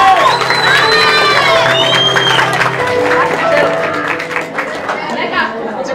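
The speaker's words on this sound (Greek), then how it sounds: "παρακαλώ, χειροκρότημα!" A lively crowd at a Trikala, Greece, secondary school World Poetry Day event cheers and claps loudly, with shouting and whooping voices rising over the applause before it gradually eases.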